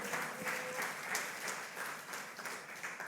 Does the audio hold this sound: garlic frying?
no